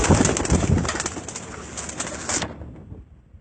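Neel Dum pigeons coo close by, soft throaty calls overlapping with a little wing flutter, then fading out near the end.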